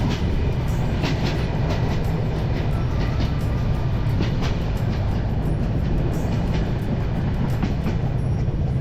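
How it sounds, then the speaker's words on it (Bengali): A train rumbles along the rails continuously out of Dhaka toward Faridpur, with a heavy low roar and faint rhythmic clicks, heard from on board. "একটু দূরে যেতেই আমাদের ট্রেন এরকম ছোট ছোট ব্রিজের উপর দিয়ে যাচ্ছিল"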